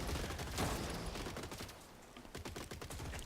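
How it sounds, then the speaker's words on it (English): Rapid gunfire from the video game Gladiabots, with a shotgun in the fight, dense crackling shots in quick bursts, fairly faint but continuous for a few seconds. "he's not going to be able to stop this shotgun"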